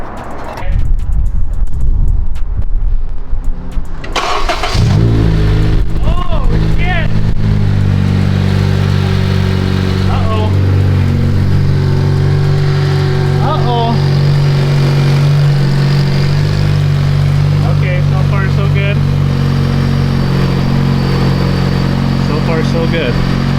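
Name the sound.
turbocharged Honda Civic Si engine starting and idling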